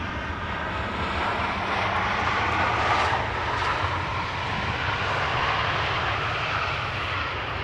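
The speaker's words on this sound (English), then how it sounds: "a Transavia 737 landed" A Transavia Boeing 737 arriving from Lisbon lands at Amsterdam Schiphol, its jet roar loud and sustained, swelling slightly mid-way and holding as a broad rumble without talk.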